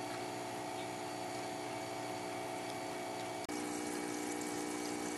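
Steady bubbling and hum from an air stone aerating water in a DWC hydroponics tank, continuous and fairly loud throughout with a brief dip near the middle.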